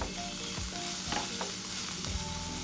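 Tofu and shrimp frying in a pan with a little added water, giving a constant sizzle broken by a few sharp stirring scrapes and clinks of a utensil against the pan.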